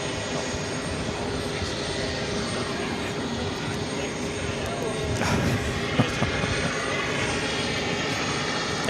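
Boeing 737 MAX 8 arriving at New York JFK airport from Kingston, a steady, loud, broad engine roar close by with no pauses.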